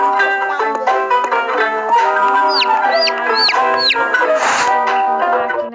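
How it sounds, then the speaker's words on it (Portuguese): Cartoon chicken clucks loudly from the Toca Pet Doctor video game, a rapid run of close, bright calls broken by a few rising squawks, with no talking. "Galinha."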